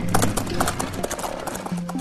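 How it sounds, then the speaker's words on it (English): A horse pulling a buggy at a trot, its hooves clip-clopping in a quick, steady rhythm close by, with faint tonal background sound underneath. "a horse and buggy."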